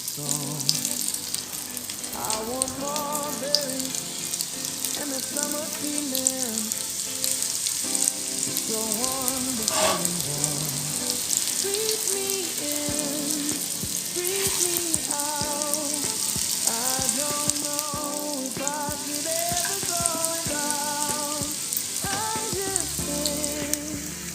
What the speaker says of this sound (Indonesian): Masak minyak, eta goreng, apina leutik.